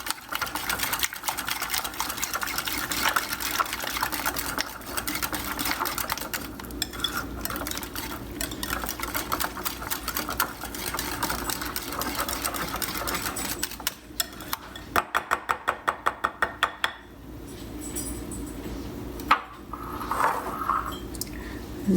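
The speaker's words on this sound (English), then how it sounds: "And then we whisk it together." A whisk beats a yogurt mixture in a bowl, a rapid, rhythmic scraping and clicking that runs continuously, briefly speeds into a distinct burst of quick taps, then eases off near the end.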